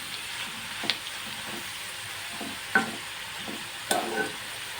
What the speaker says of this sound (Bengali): আমি আর একবার তেলের সাথে কারি পাতাগুলো নাড়িয়ে দিলাম।